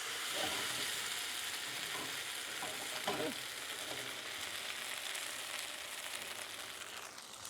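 Vegan, gluten-free bánh xèo batter frying in oil in a pan, a soft continuous sizzle with a few stirring scrapes near the start, fairly quiet and close, without talk.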